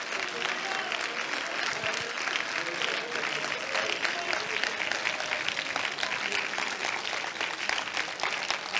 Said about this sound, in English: Clap your hands, all ye people.